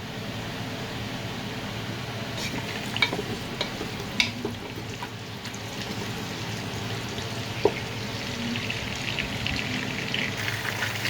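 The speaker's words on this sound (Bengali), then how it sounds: "শুকনো মরিচ, তেজপাতা সব কিছু দিয়ে একটু হালকা ভেজে নিচ্ছি।" Potatoes, dried red chilies and bay leaves fry gently in a pot on a gas stove with a soft, steady sizzle, broken by a few sharp clinks of a spoon against metal.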